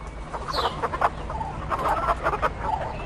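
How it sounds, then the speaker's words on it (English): Hens clucking in a busy cluster, overlapping short calls close by, with a brief higher squawk near the start. "Of course we have. They all clucked."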